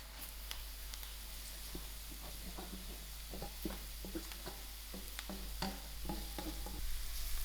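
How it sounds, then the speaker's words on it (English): Grated cauliflower with masalas frying in a pan for a gobi paratha filling, a steady low sizzle under repeated light scraping and tapping of a spatula as it is stirred. "I will allow this cauliflower to fry"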